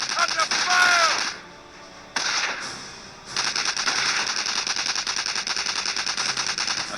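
Bursts of rapid machine gun fire rattle through a Company of Heroes battle, with short gaps between volleys and a brief voice line near the start, then sustained crackling gunfire to the end.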